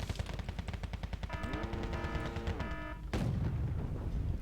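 Tank cannon fire and battle sounds from the real-time strategy game Wargame: Red Dragon as a Leopard 2A4 engages enemy tanks, a rapid series of loud repeated shots with a heavy blast near the end, no voices.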